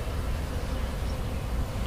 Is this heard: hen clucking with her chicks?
no